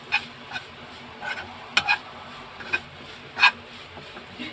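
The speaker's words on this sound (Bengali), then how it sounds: "সব কিছুকে ভালো করে মিক্স করে নেব।" Soybean momo filling with pepper powder and chili flakes is stirred in short, uneven scrapes and dry rubbing strokes, close and fairly quiet, with no voices.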